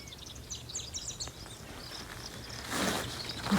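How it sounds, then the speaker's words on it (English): Small birds chirp and twitter in the Sonoran desert at Saguaro National Park, with quick, high calls from several spots against a quiet backdrop, then a soft rustle of footsteps near the end. "here it's full of birdsong"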